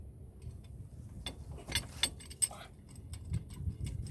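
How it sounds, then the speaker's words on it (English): A 6-inch C-clamp pushing a brake caliper piston back on a Chevy Uplander: faint, irregular metallic clicks, ticks and small clanks against a quiet low hum. "This is a 6-inch C-clamp. You want to make sure this piston is collapsed all the way."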